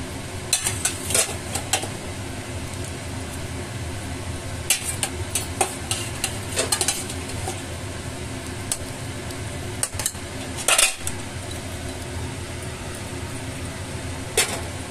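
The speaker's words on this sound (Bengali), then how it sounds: "পটলটা দিয়ে আমি খুব ভালো করে নাড়াচাড়া করে দিচ্ছি" Pointed gourd being stirred into a gravy in a pan, with repeated scraping and clinking of a utensil against the pan over a low sizzle, no one talking.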